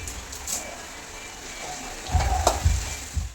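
Curry leaves and dried coconut pieces frying in hot oil for Kerala chicken varattu, a steady close sizzle that swells into louder crackling and spitting toward the end.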